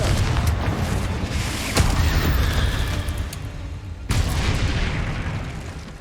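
Confringo spells burst repeatedly in Hogwarts Legacy, loud booming blasts with crackling sharp onsets and sustained rumbling, a fresh hit landing roughly every couple of seconds.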